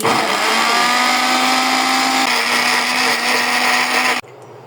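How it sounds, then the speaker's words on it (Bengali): An electric blender grinds chili and onion with no water added, a loud continuous whirring roar with a steady hum that runs for about four seconds before cutting off abruptly. "ঝাল আমি এটা দিয়ে ব্লেন্ডার করে নেব"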